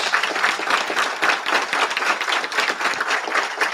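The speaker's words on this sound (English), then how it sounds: "Can we give them a gigantic round of applause?" A crowd at a graduation ceremony for Las Vegas Metropolitan Police Department officers claps loudly, many hands beating in a lively, slightly pulsing rhythm that carries from start to finish.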